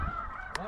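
Snow geese honking over a goose hunt in Alberta: a steady nasal honk from the flock, fairly faint and distant, with one sharper call near the end.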